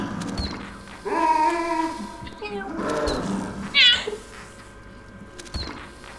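Meowing from players in a video game, bursts of cat-like calls under overlapping voices and game sounds, loudest near the middle.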